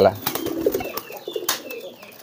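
Racing homing pigeons coo and call in a loft during courtship driving, with short throaty coos and flutters close by amid background chatter.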